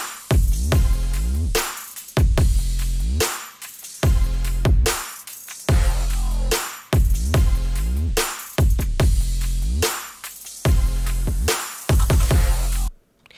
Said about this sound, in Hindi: ये मेरा ड्रम सेक्शन है।